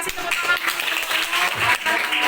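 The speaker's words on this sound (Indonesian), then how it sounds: "Kasih tepuk tangan untuk" A classroom of students claps together, sustained uneven applause that swells and dips over a couple of seconds, with some voices mixed in.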